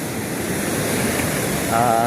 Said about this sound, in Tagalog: Narito po tayo ngayon sa tabing dagat.